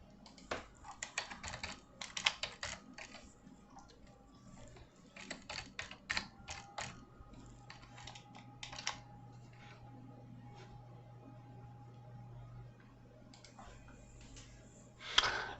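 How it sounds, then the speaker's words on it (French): Typing on a computer keyboard: quick clusters of close, crisp key clicks come in uneven bursts and then pause briefly, and the sound stays fairly quiet throughout. "Je vais la taper directement ici."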